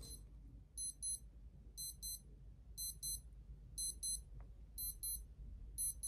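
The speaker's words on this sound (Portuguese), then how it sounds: "O relógio tá apitando e ele quebrou, né? Ele não para de apitar nunca mais." A broken alarm clock beeps nonstop in a quiet room, repeating quick high-pitched double beep bursts in a steady rhythm, faint and alone with no voices.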